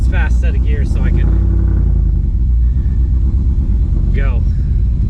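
A 1992 Chevy C1500 pickup with a swapped LS1 V8 and T56 manual drives along with a steady, loud low rumble throughout, while a person talks over the engine noise.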